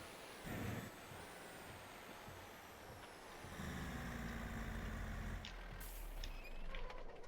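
Truck in Farming Simulator 22 driving and parking: a steady engine drone rising in loudness, with hissing air-brake bursts near the end, heard alone without talk.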